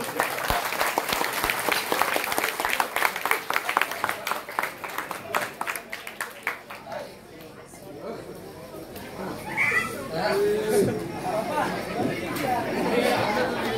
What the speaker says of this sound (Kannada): ಅವರಿಗೆಲ್ಲ ಒಂದು ಜೋರಾದ ಚಪ್ಪಾಳೆ ಬರಲಿ